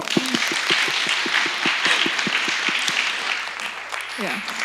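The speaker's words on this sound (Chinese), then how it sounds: "那我们再给一次掌声" Audience applause at a live Indo-Chinese cultural music and theatre performance in Shanghai Jinze, a steady wash of clapping running the whole time, with a host's voice speaking over it.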